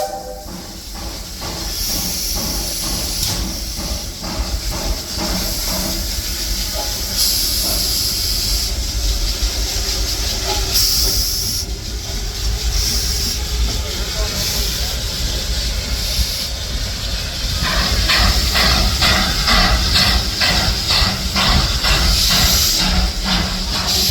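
Steam locomotive 202 pulls forward at a railroad event, with a steady loud hiss of steam and the rhythmic chuff and clank of the engine running continuously without talk.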